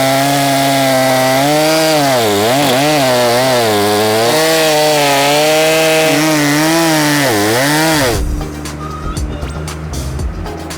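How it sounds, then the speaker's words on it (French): A chainsaw cutting through a large dead tree trunk, the engine roaring loud and close with pitch dipping and recovering under load for several seconds before cutting out abruptly into quieter ambient noise. "Le test il est bien parce qu'on est sur le même endroit en fait avec toutes les tronçonneuses."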